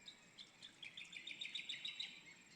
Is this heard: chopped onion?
no